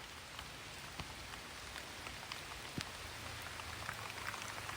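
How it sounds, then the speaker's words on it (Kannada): Light rain patters steadily with a soft, even hiss and scattered drips, no voices. "ನೋಡಿ ಮಳೆ ಬರ್ತಾ ಇದೆ ಸಣ್ಣಕ್ಕೆ"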